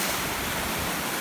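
Sea surf breaks steadily along the Baltic coast in spring, a loud, continuous broadband wash of waves with no voices.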